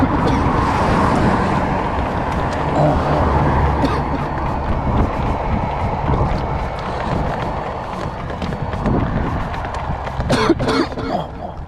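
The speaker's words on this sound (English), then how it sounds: "loud, heavily trafficked road with fast-moving cars" Fast-moving cars rush past steadily on a loud, heavily trafficked road in the Santa Cruz Mountains, a continuous broadband roar heard up close from the roadside with passing swells and some nearby rustling.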